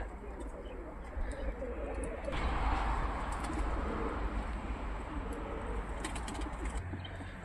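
Pigeons cooing in a garden on a warm midday, soft repeated low coos close by with a broad rush of wind or ambient noise and a few brief sharper sounds.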